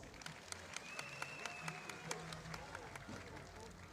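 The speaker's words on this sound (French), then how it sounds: "Sous vos applaudissements." Faint, distant applause from a political party congress audience greeting a delegation, a thin scattered patter with crowd murmur and background voices beneath it.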